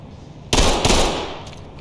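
A single loud, close pistol shot in the tactical shooter Ready or Not, a sharp crack with a short echoing decay after a quiet lead-in.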